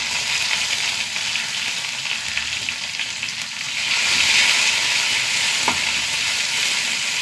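Five or six small onions frying in hot oil with dried red chilies and curry leaves: a dense, loud crackling sizzle that swells midway, with an occasional faint stir and no voices.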